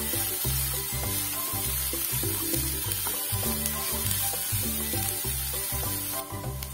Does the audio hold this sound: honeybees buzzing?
no